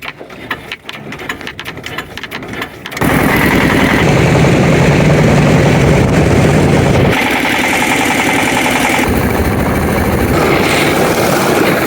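A boat engine starts up and runs loud and steady with a droning, whirring propeller, continuous and close, after a few seconds of rattling clatter.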